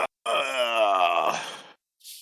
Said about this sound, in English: This is the sound of me drinking.